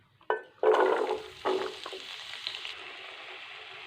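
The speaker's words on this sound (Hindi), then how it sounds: "अब हमने जो एक आलू लिया था कटा हुआ क्यूब की शक्ल में, वो इसमें डाल देंगे।" Cubed potatoes drop into hot melted ghee with a sudden loud hiss that eases into a steady, close sizzle, with a second splash of pieces and no talking.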